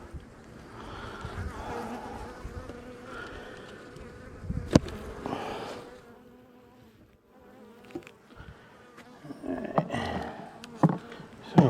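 Honey bees buzz steadily in an open beehive during an inspection, a close, continuous droning hum with occasional louder passes and the clack of frames being handled.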